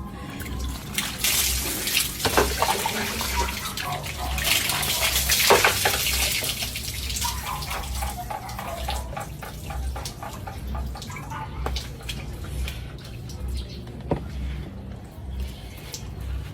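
Water is poured and splashes steadily while people bathe outdoors in cold water, a continuous close splashing and dripping that rises and falls over the whole stretch.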